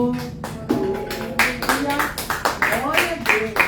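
A church congregation claps for the Lord, rhythmic hand claps mixed with voices and some musical tones under them, fairly loud and close, with people speaking or praising through the clapping.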